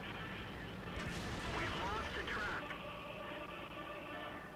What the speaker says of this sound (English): There is a fucking artillery piece out there.